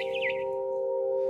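A brief, bright swallow chirp trills at the start over a steady electronic tone in the video game What Remains of Edith Finch, close and clear, then only the tone continues.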